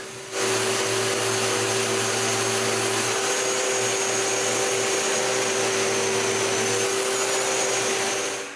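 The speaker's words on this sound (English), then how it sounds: "the glue is dry and I can sand the glue squeeze out" A power sander works dried glue squeeze-out off a wooden board, a loud steady whine and rushing drone that starts after a brief lead-in and runs unbroken to the end, with no talking.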